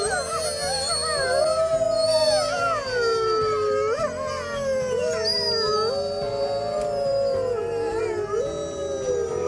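Wolves howl in a dense, overlapping chorus, several long wavering wails rising and falling together, steady and fairly loud throughout with no pauses.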